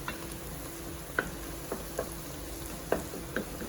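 Onions frying in a soup pot while being stirred, a soft low sizzle with a handful of light clicking spoon taps against the pot spaced a second or so apart, fairly faint, with no talking.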